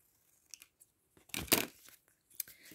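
A few close, crisp scissor snips and crinkly cuts through aluminium foil, with brief pauses between them and no talking.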